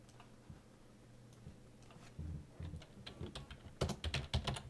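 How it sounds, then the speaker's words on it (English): Keys click on a computer keyboard, quiet and close. Scattered taps at first give way to a quicker run of keystrokes near the end. "I'm going to type the word title here."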